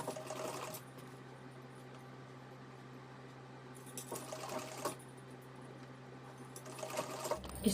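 Sewing machine stitching a 1.5-inch fabric strip onto a halter neck maxi dress, a steady close whirring run with brief pauses and restarts.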